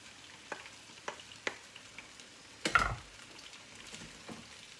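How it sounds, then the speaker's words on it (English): Rice frying in a pan gives off a soft, steady sizzle as a utensil stirs it, with several light scrapes and taps and one louder scraping push partway through. "Now I keep stirring."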